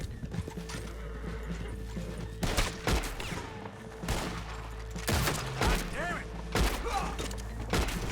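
Gunfire from a Red Dead Redemption 2 shootout: a series of loud, sharp shots in separate bursts over steady game background noise, with horse hooves clopping nearby and a reload in between.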